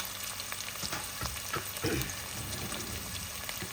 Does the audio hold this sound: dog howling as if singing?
no